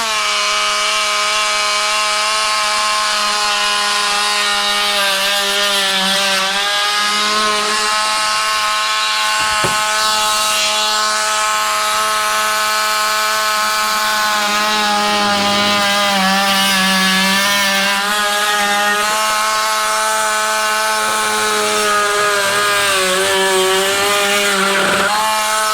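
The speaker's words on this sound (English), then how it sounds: "I'm going to try to cut it with my Dremel" Dremel rotary tool cutting through a homemade flag pole, a loud high-pitched whine with grinding rasp whose pitch wavers as the load shifts, continuous for about twenty-five seconds.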